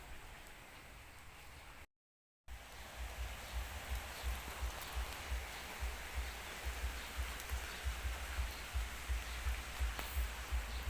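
Steady rain pouring down at a rural home in Thailand during two days of heavy downpour, a dense continuous hiss of drops on surfaces with a brief gap near the start.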